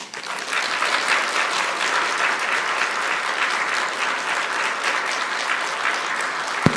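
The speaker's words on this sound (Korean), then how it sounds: "우리 변호사님 나올 때 큰 박수로 환영하겠습니다" A crowd applauds loudly and continuously to welcome a lawyer onto the stage at a gathering, with one sharp knock near the end.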